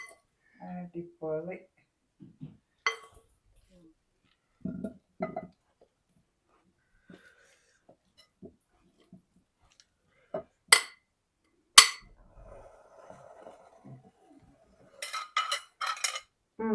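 A spoon mixes a guava snack in a bowl with sparse clinks and scrapes, sometimes in short bursts, among stretches of quiet and intermittent talking.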